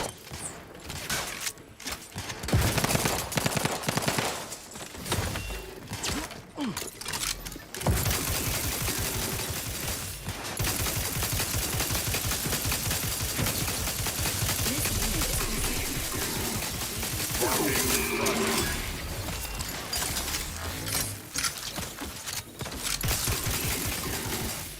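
Sustained automatic gunfire in The Outer Worlds 2 hammers out in dense, rapid bursts for most of the stretch, loud and close, with a few short gaps between volleys.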